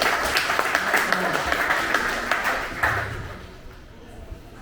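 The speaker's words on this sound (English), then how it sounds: "Please give applause, Stuart." Applause from an audience at a live Melbourne Silicon Beach meetup, a steady wash of many hands clapping at moderate distance that fades away after about three seconds.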